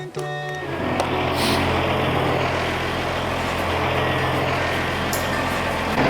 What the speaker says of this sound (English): That's how we get our compost delivered. We're getting it 45 yards at a time. That is a beautiful truck, by the way.